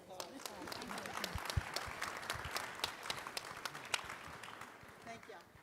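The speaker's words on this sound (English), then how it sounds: "let's give our panel a round of applause." An audience at an annual gala and awards banquet applauds a panel with sustained, fairly distant clapping that carries evenly through the clip.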